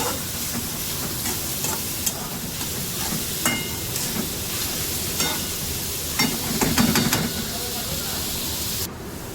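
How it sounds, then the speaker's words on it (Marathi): Onions frying in oil in a home kitchen, a steady hiss and sizzle with occasional clinks of stirring, continuous for several seconds and close to the pan. "आपण कांदो लाल करून घेऊया तेलामध्ये"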